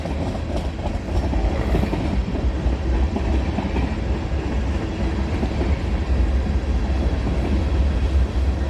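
A freight train hauling tank cars rolls past close by, a steady loud rumble with rail clatter running throughout.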